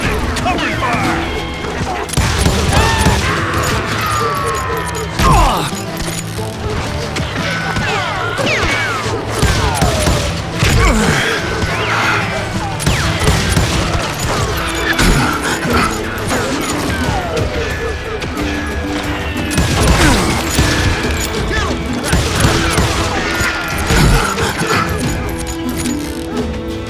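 Dense, chaotic gunfire and crashing impacts from a Western shootout in the video game Call of Juarez: Gunslinger, loud and continuous across the whole stretch with layered music and effects, and a voice calling out briefly amid the battle.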